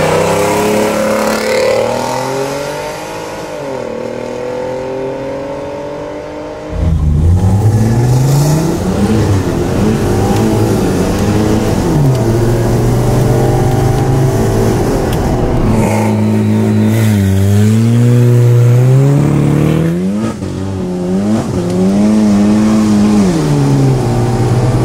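An all-wheel-drive VW Polo GTI on a test run accelerating hard, close and loud, its engine revving up through repeated gear changes with sharp rising pitch sweeps and brief drops between shifts.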